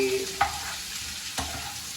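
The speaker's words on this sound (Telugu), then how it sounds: "ఆనియన్స్ బాగా ఫ్రై అవ్వాలి" Onions fry in a pan for a Telangana tomato curry, giving a steady close sizzle. A spoon stirs them with a couple of soft scrapes and clicks.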